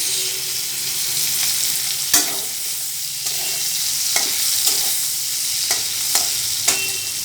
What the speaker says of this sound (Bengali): প্রথমে শুটকিগুলোকে ভালো করে গরম তেলে ভেজে নেব তারপর এর মধ্যে দিয়ে দেবো কুচানো পেঁয়াজ